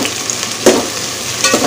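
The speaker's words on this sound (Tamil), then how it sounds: "எல்லாத்தையும் நல்லா வதக்கி எடுத்துக்கிடலாம்." Chopped onions sauteing in a pan on the stove, a close, loud sizzle with two brief bursts of stirring.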